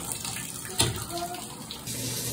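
Water runs from a tap into a bathtub, a steady gushing stream with a brief splash or knock partway through and light background sounds.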